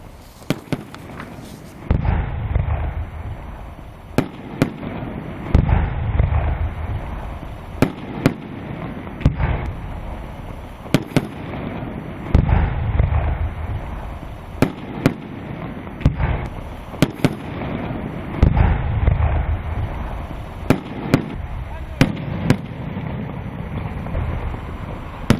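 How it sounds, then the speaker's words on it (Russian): Repeated sharp bangs and crackles of a celebratory fireworks display bursting outdoors in central Magas, Ingushetia, for the Olympic torch relay, with booming rumbles between the pops and wind noise over the microphone. "Час назад в честь эстафеты Олимпийского огня в центре Магаса дали салют."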